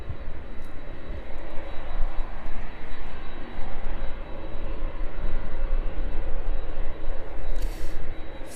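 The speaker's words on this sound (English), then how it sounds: "That 737 continuing to climb away then." A Boeing 737 jet climbs away after takeoff from East Midlands Airport, a loud continuous broadband engine roar that holds steady throughout with slight swells, heard at a distance with no voices.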